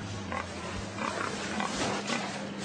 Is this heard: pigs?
yes